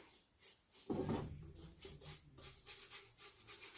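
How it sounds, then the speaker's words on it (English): A paintbrush is scrubbed hard to work paint out of its bristles, with faint, close, rhythmic rubbing strokes repeating steadily. "Because I know there's paint inside my paintbrush, so it's scrubbing really hard"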